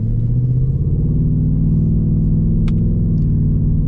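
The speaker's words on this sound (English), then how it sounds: "you just have some good engine and exhaust sounds in this car" A 2026 Ford Mustang GT's engine and exhaust hum in a steady, loud low rumble while driving, heard continuously from inside the car with no voices.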